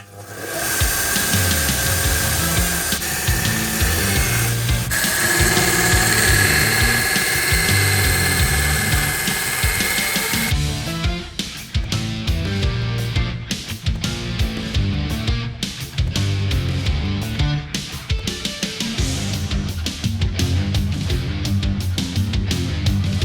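A Vonhaus 1 x 30 inch belt sander and grinder runs with an 80 grit belt: a loud, steady mechanical whine, then rougher, choppier grinding bursts as the belt works against a piece. No one speaks.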